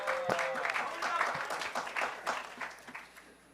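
A short burst of audience applause in a conference hall, scattered clapping that swells and fades over a few seconds while a presenter keeps talking.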